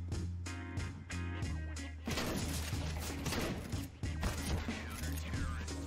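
A Nova shotgun in CS:GO fires a few spaced, booming blasts over a steady tonal game soundtrack. A louder, denser stretch of shooting and crashing follows, then another heavy shot near the end.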